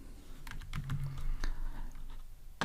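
Quiet, close clicking of a computer keyboard as someone codes an Android app, with keystrokes in irregular bursts and short gaps and a final sharp tap at the end.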